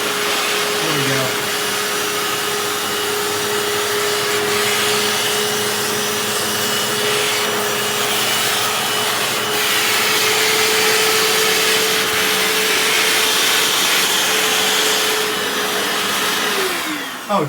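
A Hoover FloorMate Deluxe floor cleaner runs continuously while cleaning a bathroom, a loud steady motor whine and suction roar that holds for the whole stretch, with a voice briefly audible under it.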